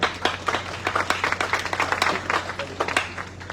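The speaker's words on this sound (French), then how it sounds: "Donc nous applaudissons son arrivée" An audience at a school centenary celebration applauds the arrival of a guest, a moderate, fairly distant round of clapping with individual claps audible throughout.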